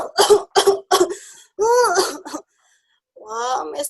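A storyteller voices a child character coughing in a run of short, bursty coughs with moaning, throat-clearing sounds between them, close and loud. The voice imitates the cough.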